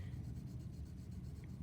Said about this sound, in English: letting that pencil go on top of the paper.